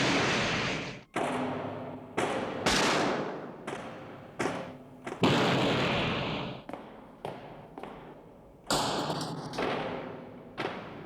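Gunfire from a gangster shootout scene in a 1987 film: about a dozen sharp shots crack one by one at irregular intervals, each trailing into a decaying echo.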